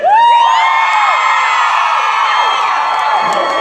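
A convention panel audience screams and cheers loudly, a dense wall of shrieks and whoops that swells at the start and holds for several seconds.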